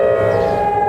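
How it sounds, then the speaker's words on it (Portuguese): A steady extreme-heat warning siren wails alone and loud, holding one sustained tone with strong harmonics for under a second. "A sirenezinha do calor extremo."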